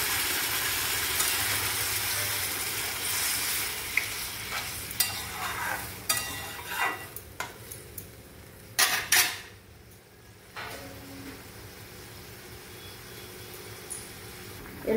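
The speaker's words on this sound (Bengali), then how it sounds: "এবার এর মধ্যে আমি জল ঢেলে দিচ্ছি" Water poured into a pan of ridge gourd and potatoes: a broad rushing sizzle fills the first seconds, easing into quieter bubbling with a few sharp clinks of utensils against the pan, no voices.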